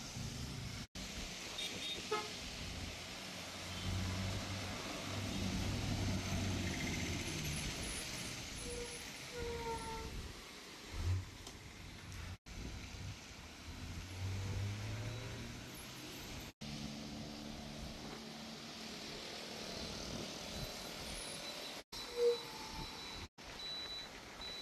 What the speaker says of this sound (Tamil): இவ்வளோ வாகனங்கள் வந்து கொண்டிருக்குது